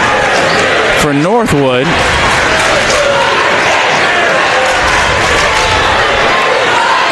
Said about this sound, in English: Big crowd in attendance in the student section